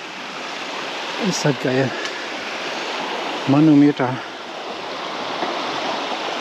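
The Schlaube river runs high with lots of water, giving a steady, close rushing flow throughout, while a man twice exclaims over it.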